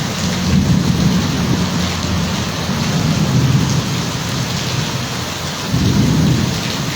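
Heavy rain pours steadily in Mayiladuthurai district, with a constant loud hiss of rainfall and rolling rumbles of thunder swelling twice, no voices present.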